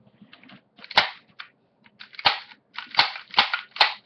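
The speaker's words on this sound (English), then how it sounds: "So it looks like this is the gun with the suppressor." A suppressed BB gun fires about five muffled, sharp pops close by, each followed by short rattling clatter, with quiet gaps between shots.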